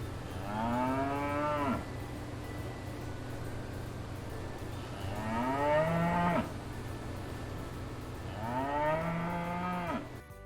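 A cow moos three times in long, loud, drawn-out calls with rising and falling pitch, each separated by a short pause, clear and close with no other sounds.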